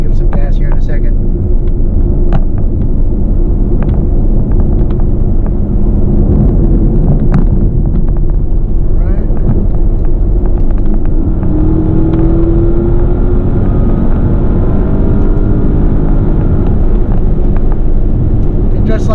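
A Porsche Panamera Turbo S E-Hybrid Sport Turismo with an 8-speed dual-clutch transmission accelerates, heard from inside the cabin as a loud, steady engine rumble and road roar that rise in the second half, with no talking over it.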